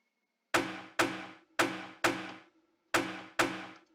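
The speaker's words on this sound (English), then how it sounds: "I also added these percussion hits to make it a bit more exciting in the second drum part" Six punchy percussion hits from an FL Studio cinematic track, each a sharp thudding attack with a short decaying tail, in an uneven rhythm with a brief gap before the last pair, heard alone.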